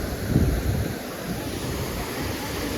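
Water rushes at Jamjir waterfall in a steady, loud broadband roar, with wind buffeting the microphone and no voices.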